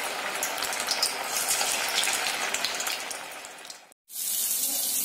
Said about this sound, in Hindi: तो बॉम्बे डक्स को, बोम्बिल को इस तरीके से फ्राई